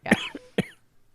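A person imitates an old man's cough with a voice: two short, rough, throaty coughs close to the mic, a brief grunt between them, then near quiet.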